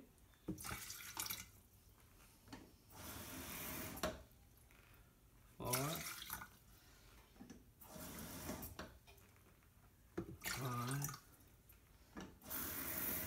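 Water is poured into a pot for a Mexican soup made with beef bouillon, heard as several short bursts of splashing and running water in a home kitchen, separated by brief pauses and clatter.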